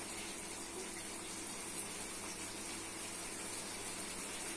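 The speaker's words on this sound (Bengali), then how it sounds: "দিয়ে দিচ্ছি জল" Water poured or running steadily into a pan of shrimp and pumpkin curry, a continuous faint gushing wash that stays even throughout with no talk.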